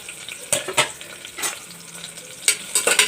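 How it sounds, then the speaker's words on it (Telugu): Cumin seeds sizzle in hot oil with green chillies in a pan for methi pulao, a steady close frying hiss broken by a few sharp bursts of stirring and scraping. "ఇప్పుడు ఇందులోనే జీలకర్రను కూడా వేసుకున్నానండి"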